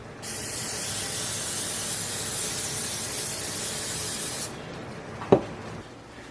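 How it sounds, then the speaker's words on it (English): A long, steady hiss of cooking spray over eggplant cannelloni on a sheet pan runs for about four seconds, then cuts off, followed by a short sharp knock. "Give it a little extra spray on top."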